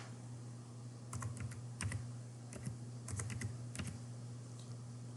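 Typing on a computer keyboard to enter a search in a book platform: quiet, close key clicks in short irregular bursts over a low steady electrical hum.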